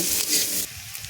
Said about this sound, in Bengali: পেঁয়াজটাকে একটু নাড়াচাড়া করে পেঁয়াজগুলোকে একটু ভাজা ভাজা করে নেব